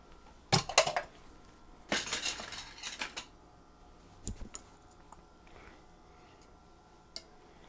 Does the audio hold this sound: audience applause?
no